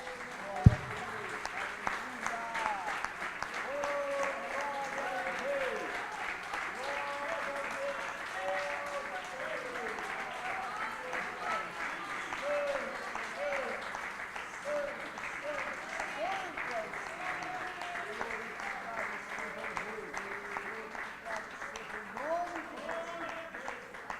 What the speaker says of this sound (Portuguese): Então dá um aplauso ao nosso Deus.